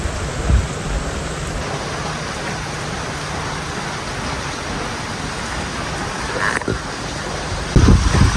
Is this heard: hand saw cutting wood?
no